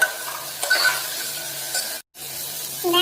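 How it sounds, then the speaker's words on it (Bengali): Ginger, garlic and dried chilli paste hitting a hot pan for a mutton curry, a steady close sizzle with stirring scrapes, a brief gap, then frying resumes. "এবারে আমি এর মধ্যে ওই আদা রসুন আর শুকনো লঙ্কার পেস্টটা দিয়ে দেবো।"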